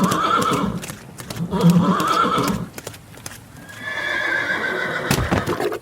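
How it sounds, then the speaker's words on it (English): A horse whinnies and neighs amid clip-clopping hooves as it stumbles and goes down in mud, the sounds fairly close, steady and loud throughout. "One of the horse's hooves gets caught, taking the poor creature down."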